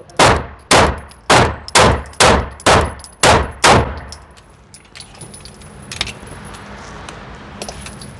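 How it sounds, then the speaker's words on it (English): Nine rapid pistol shots from a Canik fitted with a Legion compensator, loud and evenly spaced at an outdoor range, followed by ringing tails and faint background rustling. "I'll be shooting 9 on the left target."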